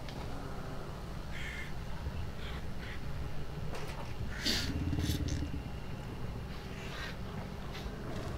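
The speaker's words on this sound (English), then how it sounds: "Crows are right on top of that opening, Steve, so just be careful, mate." A flock of crows caws in the video game Hunt: Showdown, with several harsh calls scattered over a steady low wind-like rumble and no talking.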